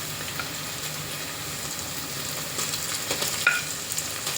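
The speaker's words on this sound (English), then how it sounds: "Adding chopped tomatoes" Chopped tomatoes sizzle in a hot pan of browned aloo matar, a steady close frying hiss that swells near the end with a few light stirring clicks.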